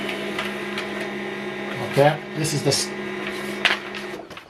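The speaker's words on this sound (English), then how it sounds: "This is how to copy your document with this printer." An HP LaserJet Pro M15w printer hums steadily while copying a document, with a few brief mechanical clicks and rustles, as a person speaks briefly over it.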